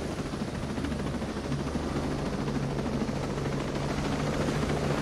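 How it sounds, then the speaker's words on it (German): A surveillance drone hovers nearby in the video game Ghost Recon Wildlands, producing a continuous whirring, rotor-like hum that stays loud and even from start to finish with no talk. "Ja, diese Drohne alarmiert alle."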